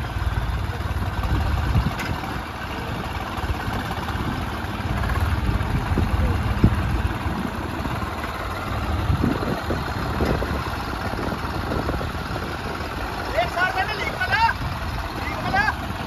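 A tractor engine idles with a continuous low rumble that holds steady for the full length, and brief higher clatter breaks in near the end.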